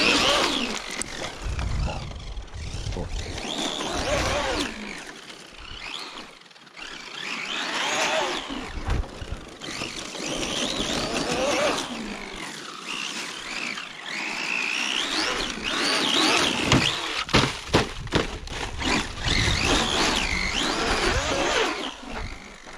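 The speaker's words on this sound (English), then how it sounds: "With the Traxxas MAXX and a poorly set gear mesh," Traxxas MAXX RC truck with a tight, poorly set gear mesh driving at a gravel pit, its motor whining and revving continuously with gravel crunch throughout, loud and close with no voices.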